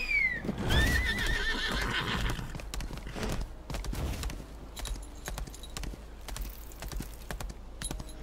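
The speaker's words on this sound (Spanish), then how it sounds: "Cogemos el caballo" Horse in the video game Lost Ark neighs loudly with a rising whinny near the start, followed by steady hoof clip-clops and ambient game sounds for the rest of the stretch.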